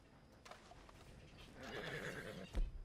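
A horse in Red Dead Redemption 2 lets out a soft, drawn-out whinny, fairly faint, followed by a dull thump, with no one speaking.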